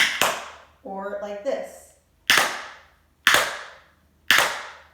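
Tap shoes strike a hard floor in a riff of toe digs and heel scuffs: a quick double scrape, then three sharp, evenly spaced loud taps ringing close by, with a brief spoken phrase between strikes.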